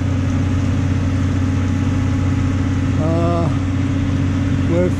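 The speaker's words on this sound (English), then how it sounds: "There's my engine purring away nicely" A boat's engine idles steadily at close range while warming up on launch day after winter storage in a yard, a constant low droning hum with a couple of brief voices over it.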